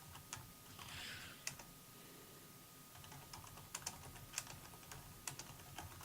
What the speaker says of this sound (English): I'm just typing in Discord to you.